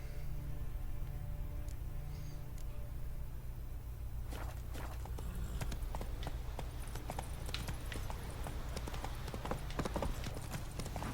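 Hooves of Roach, the horse in The Witcher 3, clip-clop steadily beneath a constant low game ambience, the footfalls growing denser and more rapid midway as the horse picks up into a run.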